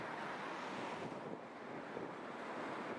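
Sea waves wash continuously onto the beach beside Blackpool promenade, a steady broad surf roar mixed with wind buffeting the microphone, with no voices.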